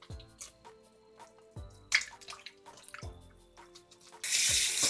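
Water runs from a kitchen sink tap while raw chicken is rinsed, with intermittent splashes and drips and a loud, steady gush of flow toward the end.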